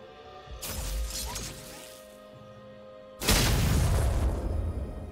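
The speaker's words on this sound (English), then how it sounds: "Blue team's turret has been destroyed." A turret collapses in League of Legends, a heavy crashing boom with shattering debris that swells suddenly and sustains loudly over the game's ambient hum, preceded by a softer whooshing impact.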